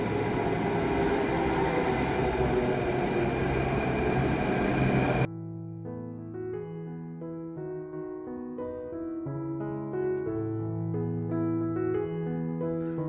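A Delhi Metro train's steady broadband rumble fills the first five seconds, then cuts abruptly to a melodic chime sequence that plays on without speech.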